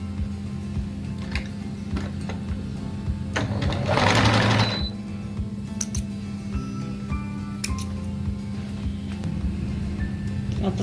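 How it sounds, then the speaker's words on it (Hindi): Electric sewing machine stitching the shoulder seam of a girls' frock, a steady close rapid whirr and tick running throughout, with a brief louder surge midway and light fabric handling noises. "शोल्डर की सिलाई लगानी है।"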